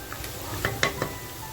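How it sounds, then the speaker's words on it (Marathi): Onion and masala fry in a pan for a village-style mutton curry, a steady soft sizzle broken by a few close scraping stir strokes, with no talking. "कांदा आणि मसाला असा छान फ्राय झालेला आहे"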